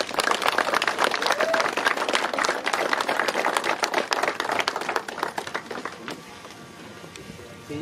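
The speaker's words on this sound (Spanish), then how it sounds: "pido un fuerte aplauso para ellos" A crowd at an outdoor village gathering in a cemetery claps loudly and steadily, dense overlapping applause that thins out toward the end, with a voice speaking underneath.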